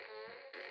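Fart sound effect, a short buzzy comic blast with a wavering tone that pauses briefly and then flares again, loud and alone.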